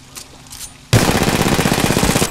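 Gunfire in Titanfall 2 erupts suddenly after a quiet start, a loud rapid burst of automatic shots that runs steadily to the end with no talk.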